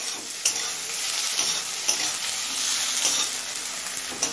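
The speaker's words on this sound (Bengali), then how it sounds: "এবার টমেটোটা গলে আসা পর্যন্ত ভেজে নেব।" Chopped tomato fries in a pan with a steady broadband sizzle, punctuated by a few sharp scrapes and taps of a spoon stirring, close and moderately loud with no talking.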